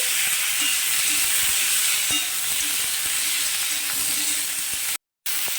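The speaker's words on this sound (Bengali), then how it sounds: "কাঁচকলা আলুটাকে ভেজে নিয়েছি" Raw green banana and potato pieces fry in a pan, a continuous close sizzle with occasional stirring clicks, then a brief cut to silence near the end.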